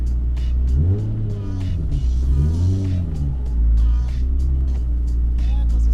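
A Toyota Supra engine revving and accelerating on the road, heard from inside the car as a loud rumbling drone that rises and falls in pitch through several gear pulls.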